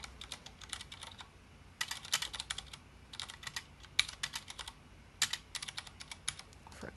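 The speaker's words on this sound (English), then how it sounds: "Type the letter Q." Rapid typing on a computer keyboard, close and clear, in irregular bursts of clicking keystrokes separated by brief pauses, with no voices present.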